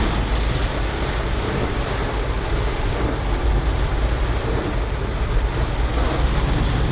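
Car splashing through about a foot of standing floodwater on a Multan street during a heavy storm, near a Metro store. A steady, loud wash of rain and churning water fills the whole stretch without pause.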